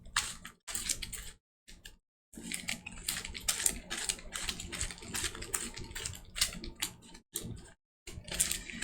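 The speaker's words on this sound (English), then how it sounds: "first let's shuffle the fast action card deck" Rapid, crisp riffling of a deck of cards in repeated bursts, a papery flutter broken by brief silences, close to the microphone.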